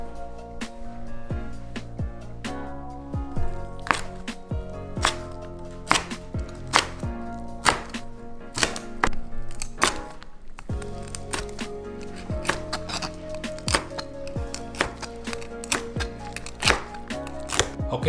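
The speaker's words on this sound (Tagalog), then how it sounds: "matapos natin ma-chop na lahat ang ating pinaka main ingredients" A knife chopping crispy pork belly and other sisig taco ingredients on a board, with rapid, irregular crisp blade strikes close by that run almost continuously, occasionally bunching into quick bursts; no one talks.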